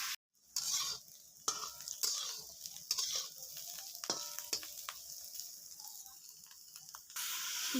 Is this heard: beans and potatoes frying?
yes